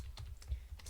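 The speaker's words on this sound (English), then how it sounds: "So we're just going to type in" Several quick keystrokes tap on a computer keyboard, close and quiet, spaced in a brief burst.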